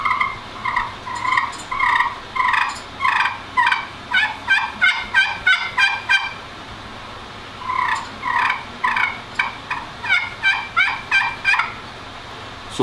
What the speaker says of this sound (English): So that's a slate turkey call.